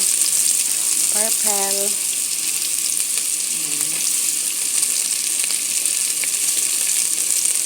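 Purple onion sizzles hard and steadily in a pan, loud and close the whole time. A voice briefly speaks over the frying twice.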